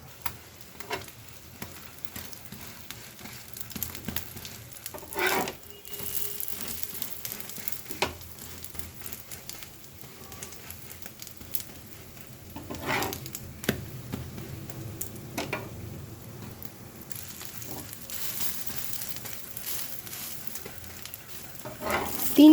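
Food being sautéed in a pan in a home kitchen, with a low continuous sizzle and occasional spatula scrapes and clanks at irregular intervals, fairly quiet throughout.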